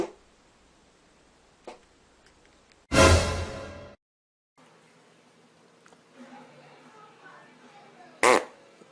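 A loud, buzzing fart blares for about a second, followed after a pause by a second short burst, with a voice talking quietly in between.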